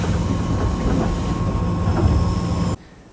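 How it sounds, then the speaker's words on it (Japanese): A Nankai train rolls into Takashinohama terminal station with a loud, steady rumble and rail noise. It cuts off abruptly near the end. "行き止まりの線路のギリギリ手前まで進んで停車。"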